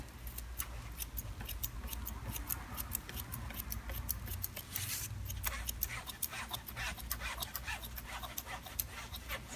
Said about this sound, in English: So just put the scissor in and just point cut it and soften the edge.